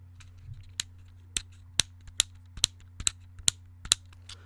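A fidget toy's switch clicks about nine times in a quick, uneven run, each snap sharp and close, over a steady low electrical hum.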